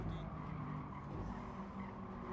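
A car brakes late into a corner in Gran Turismo 7, its tires squealing and skidding under a steady engine drone, a continuous low rumble with faint higher screech, no talk.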